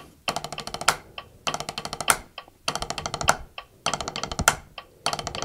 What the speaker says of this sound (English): here it is at 100 beats per minute with the click track